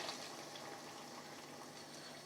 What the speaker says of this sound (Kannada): ಒಂದು ಅರ್ಧ ಲೋಟ ನೀರು ಹೇಳಿದ್ನಲ್ಲ ಅದನ್ನ ಉಯ್ಕೋತಾ ಇದ್ದೀನಿ